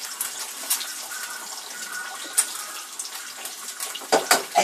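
Tap water runs steadily at an outdoor camp cooking setup as hands are washed after handling raw egg, a continuous close splashing hiss with a few brief louder splashes near the end.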